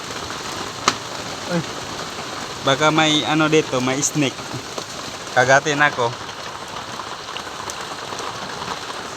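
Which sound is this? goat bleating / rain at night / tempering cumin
rain at night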